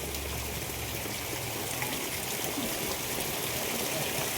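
Heavy rain pours down steadily at a farmhouse garden in Kundagal, a dense continuous hiss of falling water and runoff that holds constant throughout with no voices.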